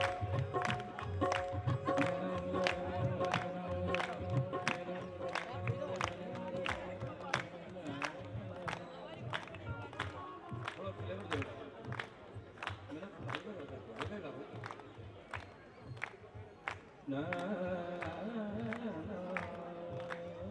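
Rhythmic hand clapping from an audience at a devotional singing gathering of the Triveni Sai Seva Samiti, steady evenly spaced claps keeping time under ongoing music and voices for the whole stretch.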